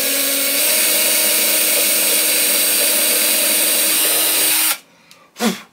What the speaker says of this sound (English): I am going to drill a hole